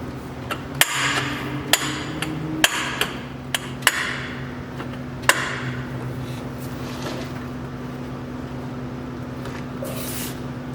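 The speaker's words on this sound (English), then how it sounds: "before I reinstall it, I'm going to try to beat it back to where it's close to straight." A bent steel belly pan guard from a Cat 977 track loader is beaten straight with a hammer, producing several sharp metallic strikes at irregular intervals over a steady low hum, close and loud, then quieter rustling.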